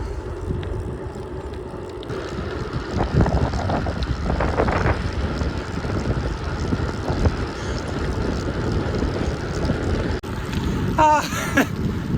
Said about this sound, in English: there's a headwind on the front straight